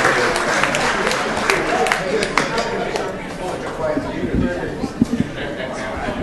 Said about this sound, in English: All those who are proud to be a citizen of Santa Ana, clap your hands real quick